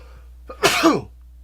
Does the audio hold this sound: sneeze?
yes